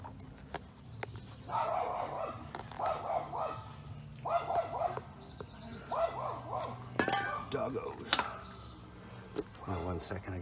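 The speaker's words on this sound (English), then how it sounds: "I gotta quiet my dog" A pet dog barks and yips in repeated short bursts, fairly close and insistent, in an indoor space beside a 2009 Nissan Altima under repair, with low background hum and a brief human sound near the end.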